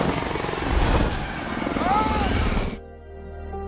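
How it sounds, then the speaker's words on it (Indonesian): A helicopter crashes in a film scene, its loud, dense rotor and engine roar filling nearly three seconds before cutting off abruptly into a quieter, tonal background. "tiba-tiba kecelakaan helikopter terjadi dan menewaskan istri dan anaknya"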